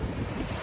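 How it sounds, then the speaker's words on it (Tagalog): Sea waves washing onto the beach at Dalampasigan in Sariaya, Quezon, a steady broadband wash mixed with wind rumble, brief and fairly loud with no voices. "Ito yung dagat dito."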